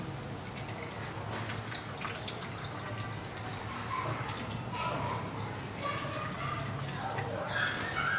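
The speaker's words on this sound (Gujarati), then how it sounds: "આવી રીતે પાણી નીતારી લેવાનું" Steady trickling and dripping water drains from strained yogurt throughout, a continuous wet patter close by with a few brighter drips toward the end.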